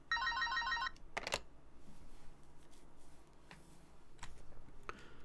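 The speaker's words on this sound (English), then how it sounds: "remembering the office phone's ringing" Office phone ringing in the video game Cienie, a short electronic ring burst at the start followed by a few clicks and faint ambient noise.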